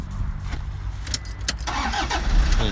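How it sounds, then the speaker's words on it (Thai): A stainless-steel-bodied pickup truck engine rumbles steadily at close range, a low throaty idle with slight revving swells and some background noise. "เสียงเครื่องหวานๆอัตราเร่งดีมากๆเลย"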